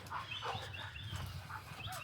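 Dogs behind a fence around a private backyard pool, heard at a distance as repeated barks over steady outdoor ambience, with no talking.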